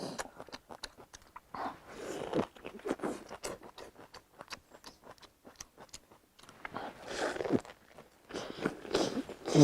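Someone bites and chews a Northeastern Chinese rice wrap rolled with houttuynia root and egg sauce, close and crunchy, with repeated bites and steady wet chewing.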